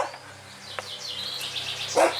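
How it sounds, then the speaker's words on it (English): A dog barks near a gate on a countryside pub walk in Kingsclere, Hampshire, giving a short bark before one louder bark near the end, with faint bird calls in the background. "So with relief we're getting away from the noisy dog"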